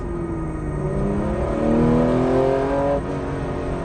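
A Porsche 911 (964) engine pulls steadily upward in pitch as it accelerates on a road, heard from inside the car, then eases off near the end.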